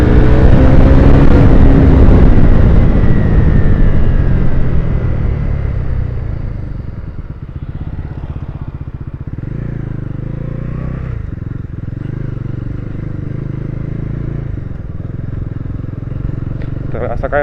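Bajaj NS400Z motorcycle engine and exhaust while riding, a loud continuous rumble that drops in pitch over the first few seconds, then holds a steady, slightly rough drone to the end.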